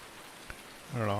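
Rain in the video game Farming Simulator 19, a steady soft patter in the background, briefly overtaken at the end by a voice.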